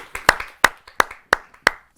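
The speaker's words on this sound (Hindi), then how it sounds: "आइए जोरदार तालियों से उनका स्वागत।" Audience at a Hindi poetry gathering (kavi sammelan) welcoming a poet, heard here as about five sharp, separate hand claps spaced evenly and close by.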